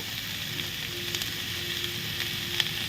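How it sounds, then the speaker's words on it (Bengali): Green chilies hit hot oil with a loud, continuous sizzle and a few sharp crackles and pops, close up and with no voices. "কাঁচা লঙ্কাটাও আমরা দিয়ে দিচ্ছি তবে এটাকে আমরা ভেজে নেব"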